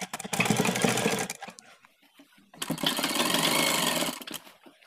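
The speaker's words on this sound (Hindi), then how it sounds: "उसके बाद हम यहाँ से एक पैर की सिलाई लगाते हुए लाएंगे" A sewing machine stitching a shirt cuff, two bursts of rapid mechanical whirring and clatter separated by a short pause with small handling clicks.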